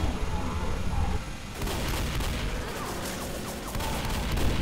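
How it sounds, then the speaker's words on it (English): A minigun in Left 4 Dead fires in sustained rapid bursts, a dense roaring stream of gunfire that continues throughout with little pause. "Keep firing. Keep it on the minigun."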